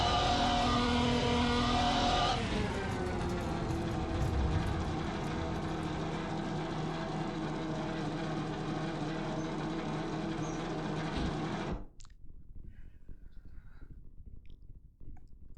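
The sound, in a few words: race car engine with unsynchronized downshifts in a sim racing video game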